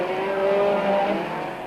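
Ford and Toyota super trucks racing in the 1997 Super Series, a steady engine roar with sustained harmonic whine from close by, no talk over it.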